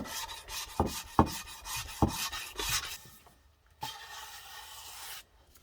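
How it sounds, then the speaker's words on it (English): Sandpaper is rubbed by hand along the edges of an Alfa Romeo OZ Monza three-piece wheel, giving close, raspy back-and-forth scrubbing strokes with a few sharper knocks, then a longer steady rub before stopping. "taking some sandpaper on it and cleaning up the edges"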